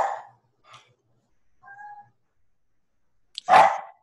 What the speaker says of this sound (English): Appears the dog has a question.